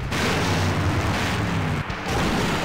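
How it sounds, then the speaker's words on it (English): Explosion in the adventure video game Full Throttle, a sustained loud rumbling blast with dense roaring noise that holds steady for the whole stretch, no talk over it. "Now that's an explosion, ladies and gentlemen."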